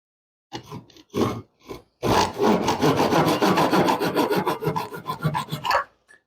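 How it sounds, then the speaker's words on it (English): Wood being cut by hand, first with a pull saw and then another saw, gives a few short rasping strokes followed by a steady run of loud, rhythmic back-and-forth sawing that ends with a final stroke. "Let's try a couple different versions of saw, see which ones I like better."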